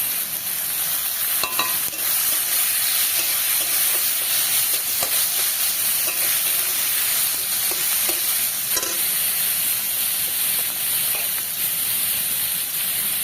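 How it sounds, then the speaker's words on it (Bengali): Grated onion fries in hot oil for a prawn malai curry, giving a loud, close, unbroken hiss of sizzling, with occasional soft clicks of stirring. "পেঁয়াজটা তেলের ওপরে দিয়ে দিলাম।"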